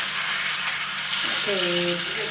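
Onion and curry leaves sizzle in a pan, a dense close frying hiss running without a break, with a brief whistling tone rising over it in the second half.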